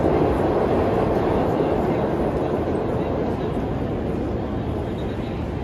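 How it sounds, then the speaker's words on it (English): A steady low rumble of a train passing beneath a New York City train station, continuous and fairly loud, with a broad roaring hiss and no distinct clacks or talk. "And underneath you can hear the train."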